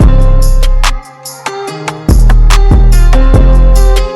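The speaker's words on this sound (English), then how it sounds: "Just a different snare or rim." A sharp rim-shot sample cracks at regular intervals inside a loud, dense beat built in Logic Pro X, cutting through heavy bass and other percussion.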